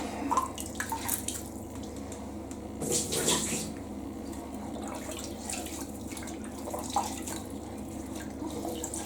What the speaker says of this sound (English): I pour the works in here